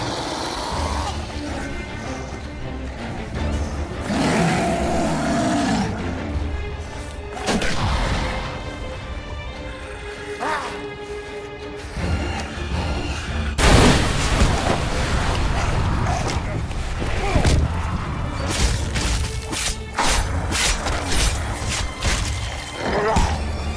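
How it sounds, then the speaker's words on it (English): Mortar barrages in Dead Island 2, a dense run of booming blasts and crashing debris with a loud sharp impact near the middle, layered over game music and effects, loud and close throughout. "The danger clothesline of mortars is hooked up."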